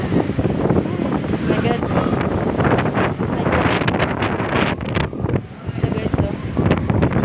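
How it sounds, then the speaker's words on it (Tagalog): Strong wind on a Makati overpass roars steadily and loudly into the microphone, a dense buffeting rumble throughout while a person talks over it. "Lakas ng hangin, nakakatakot."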